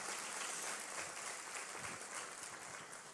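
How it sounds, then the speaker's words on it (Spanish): Dense, steady applause from a church congregation during a sermon, a broad wash of many hands clapping at even loudness for the whole stretch, with no voices standing out. "Dale un aplauso al Señor"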